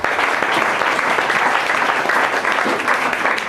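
A congregation at a religious gathering breaks into sustained loud applause, dense overlapping clapping filling the room throughout.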